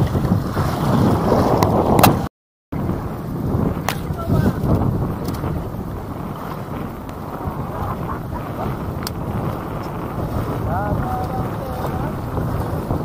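Strong coastal wind at Tanjung Biru buffets the microphone in a continuous loud roar with rustling gusts, while faint voices and a brief dropout break in early on.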